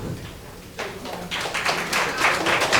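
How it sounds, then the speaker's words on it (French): Guests at a wedding ceremony break into clapping after a quiet start, the applause building into a dense, steady patter that grows louder toward the end. "On applaudit quand même"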